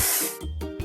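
A short hiss of spray paint from a truck-building kids' video game, a single burst lasting under a second with brief breaks as it sputters.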